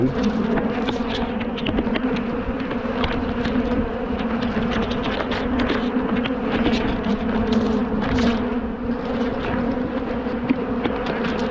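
A dense, steady buzzing of a large, angry honey bee swarm attacking at an open hive fills the scene up close, droning continuously without pause.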